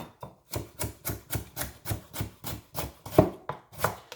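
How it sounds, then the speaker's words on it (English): A knife chops carrot into small pieces on a board, with a steady run of about a dozen evenly spaced, close thuds and no voices. "Cut up the carrot small."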